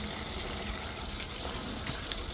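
Steady gushing water rushes through a car's wheel arch and its ventilated panels, a continuous close wash with no breaks.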